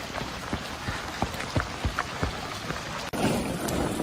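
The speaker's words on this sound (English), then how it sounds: "it's raining" Rain falls steadily at a mountain stay in Manali, with distinct drops tapping irregularly on a nearby surface over a continuous wash. A sharp cut near the end brings a denser, hissier downpour.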